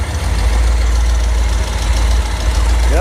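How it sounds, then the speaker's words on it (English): A car engine running on a freshly installed fuel filter idles loudly and steadily with a deep, even rumble close by, with a brief chirp near the end. "as soon as you got gas, it started right up"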